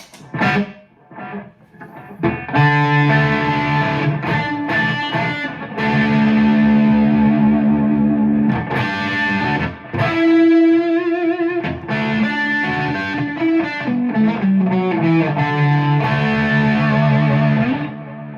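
Distorted electric guitar playing sustained chords and notes, drenched in echoing delay and reverb that smear the tails together.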